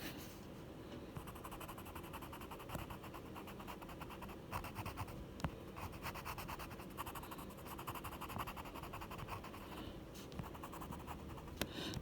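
Colored pencil strokes scratching across sketchbook paper, a steady soft scraping texture with small bursts of quicker shading, close and quiet throughout with no voices.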